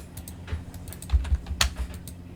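Quick computer-keyboard typing with scattered key clicks and one sharper keystroke like Enter, close and fairly soft over a low steady room hum.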